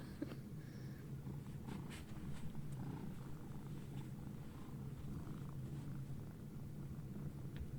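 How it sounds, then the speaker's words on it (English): A cat purrs steadily up close, a low continuous rumble with a soft rhythmic flutter, as it sniffs a napkin, and no voices. "I can hear her purring."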